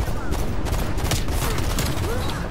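Pistol hipfire in a first-person shooter video game rattles out as a quick, dense burst of sharp shots, loud and close, with other game action layered underneath.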